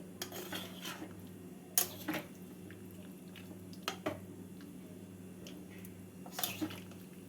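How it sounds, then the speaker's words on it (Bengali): Vegetables stirred with water in a cooking pot for a mixed vegetable curry with drumsticks and lentil nuggets, quiet wet squishing with several sharp clinks of a ladle against the pot, close and without talk. "জল দিয়ে সবজিগুলোকে নাড়াচাড়া করে নিচ্ছি"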